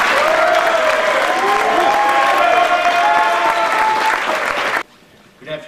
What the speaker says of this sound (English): So give me a warm round of applause for Sergeant Valdez.